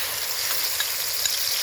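Thin batter frying in hot mustard oil with cumin seeds, a steady close sizzle and crackle holding even for the whole stretch, with no talk.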